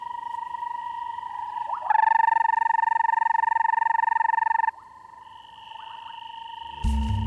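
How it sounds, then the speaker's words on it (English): A small frog calls from dense, rain-soaked African forest vegetation, a steady, loud trilling tone that rises in strength for a few seconds and then eases, close by and alone apart from a brief rustle at the end. "To have a frog brave enough to call right here while we've got the branches open"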